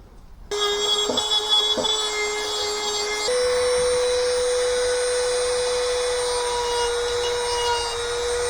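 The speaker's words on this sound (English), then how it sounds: "Little Dremel fun." A small Dremel rotary tool shaping ash wood for a hand-carved strop paddle whines steadily at close range, its pitch shifting slightly partway through as the bit bites the wood, with no talk.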